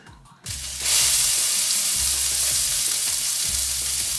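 A beef burger patty fries on a griddle for a Québec-style bacon cherry cheese burger, giving a loud, steady broadband sizzle that swells in after a quiet start and holds, with faint low thumps underneath and no talk.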